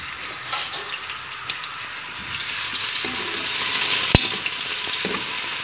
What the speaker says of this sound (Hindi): अब हम इसको फ्राई कर रहे हैं, ये थोड़ी सी ब्राउन हो जाए